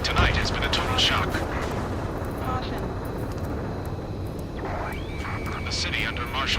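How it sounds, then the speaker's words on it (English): Gunfire and roaring jets fill a city street at night in the video game Ace Combat 7: Skies Unknown, with a dense, noisy wash of distant shots and a sustained aircraft rumble throughout. "Gunfire and the roar of jets echoing through the streets."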